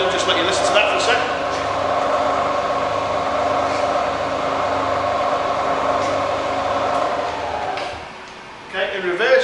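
Steady hum and whine of a Bridgeport Vari-speed milling machine running at mid speed, close and continuous before winding down and quieting near the end.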